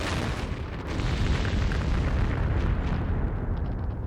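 Deep, rumbling booms roll together into a sustained roar, a chain of massive explosions at a factory storage compound heard from a distance, loud and continuous.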